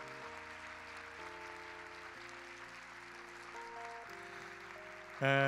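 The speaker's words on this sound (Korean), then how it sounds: "좀 더 뜨거운 박수로 좀 축복합시다." A congregation at a youth worship service claps softly beneath sustained keyboard chords that shift every second or so, the applause a faint steady wash until a brighter burst of sound at the very end.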